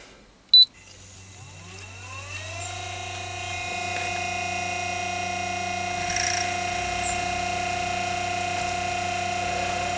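A variable speed treadmill motor for home projects clicks on and spins up, its whine climbing steadily over two seconds, then holding a smooth, even hum close by.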